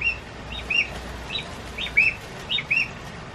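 Harsh, scratchy calls of green magpies at Chester Zoo repeat several times in quick bursts, fairly close, over a steady background of low outdoor noise.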